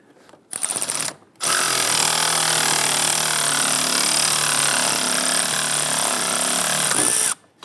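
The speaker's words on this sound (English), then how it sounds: "let's go ahead and tighten everything down" Power tool such as an impact driver or drill tightening bolts on a 3.6L V6 Jeep Grand Cherokee valve cover, a short burst then a long steady whirring run, close and loud.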